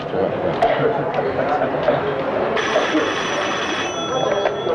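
A telephone rings inside a small shop, its electronic bell tone starting partway through and continuing steadily above a busy background of people chatting nearby.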